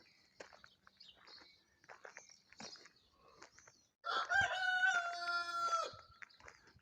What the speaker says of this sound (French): Alors il y a des poules.